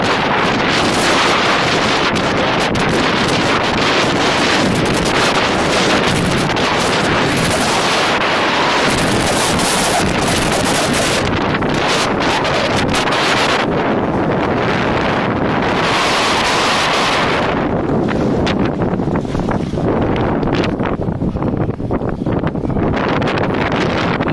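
Strong street wind in Berlin buffets the microphone with a loud, continuous roar and rumble for the whole span, gusting harder and easing off in waves, with no voices heard.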